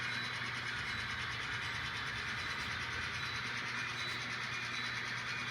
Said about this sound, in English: This is quite a train here.